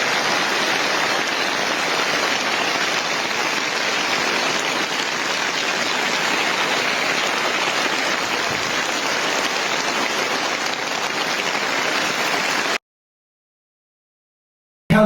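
Steady, dense rain pours down continuously at close range, a broad hiss with no voices, before cutting off abruptly near the end.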